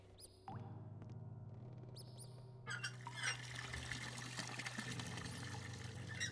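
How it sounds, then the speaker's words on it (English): Water runs steadily from a tap in the Anna's Quest adventure game, a continuous pouring rush with a faint electronic hum beneath and a few brief game chimes, heard alone without talk. "What if we ran the water? Run the water."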